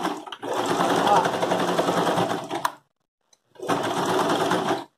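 A sewing machine stitches thin fabric in a fast, even mechanical whirr for a few seconds, stops briefly, then runs again for another short stretch, close and clear with no voices.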